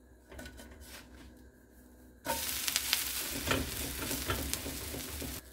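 Dosa frying on a hot pan: quiet stirring and scraping at first, then a sudden loud, steady sizzle with spatula scrapes over it, close up.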